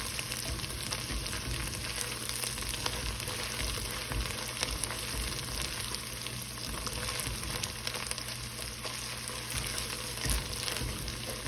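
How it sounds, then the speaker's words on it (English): Tomato paste being stirred into a marinara base frying in a pan, a steady dense sizzle running throughout with soft scraping of the stirring mixed in, close and continuous with no talking. "I'm going to add a couple squeeze of tomato paste here. And then I'll mix it up."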